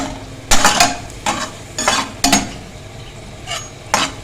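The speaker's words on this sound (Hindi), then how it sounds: "इतना रोस्ट करेंगे कि मिर्चें भी हमारी जो हैं ये थोड़ी सी गोल्डन सी हो जाए और जो लहसुन है ये भी गोल्डन हो जाए।" Chillies and garlic roasting in a pan until golden, with a utensil stirring and scraping in several separate bursts over a soft sizzle, close and clear with no talking.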